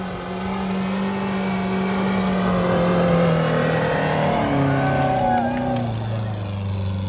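A manual-gearbox car strains up a slippery Carpathian mountain road in the cold, its engine droning steadily and loudly as the pitch shifts through the climb.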